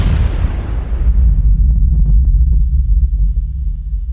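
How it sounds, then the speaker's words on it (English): A huge experimental space-gun cannon fires, followed by a deep, sustained ground rumble like a minor earthquake that lasts several seconds, with faint scattered crackles inside the low roar, loud and without speech. "the ground rumbles like a minor earthquake for several seconds"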